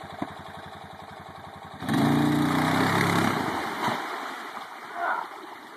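A Honda engine catches and starts at about two seconds after faint rhythmic cranking, then runs loudly and steadily close by, with short bursts of talk over it.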